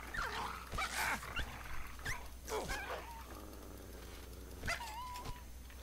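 A dog in the video game Fallout 3 gives a series of short whimpering yips and whines, some rising and falling in pitch, at moderate loudness against a steady game background hum.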